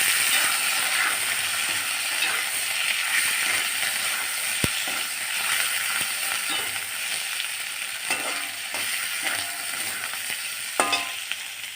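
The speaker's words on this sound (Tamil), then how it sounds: "வேக வச்ச உருளைக்கிழங்கு இருக்குல்ல அதை போட்டுருங்க கொஞ்சம் ரோஸ்ட் ஆகிற மாதிரி வதக்கிக்கோங்க" Boiled potatoes sautéed with curry leaves in a pan, a continuous bright sizzle with occasional scraping stirs and a couple of sharp utensil knocks, close and fairly loud.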